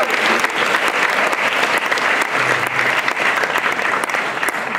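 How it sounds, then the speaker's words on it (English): At a senior banquet, a large audience gives the speakers a loud, sustained round of applause, dense overlapping claps forming a steady roar throughout, with a faint murmur of voices mixed in. "if you could all join your hands together and give a round of applause"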